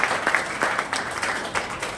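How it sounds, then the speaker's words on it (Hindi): An audience at a leadership training session breaks into lively applause, with quick bursts of clapping rising and falling and a few louder claps standing out. "आपके लिए तो जोरदार तालियां होनी चाहिए।"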